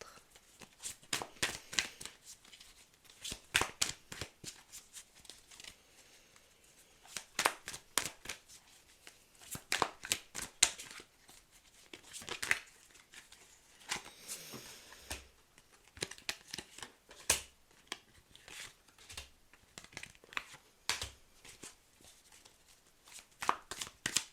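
Tarot cards are shuffled by hand for a monthly zodiac reading, with rapid riffling and sliding bursts that come in uneven clusters and are close and fairly quiet, with no talking.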